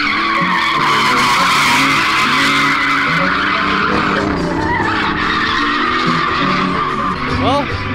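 A car drifts at a street drifting event with loud, sustained tire screeching and a roaring engine, close and continuous, while voices talk in the background.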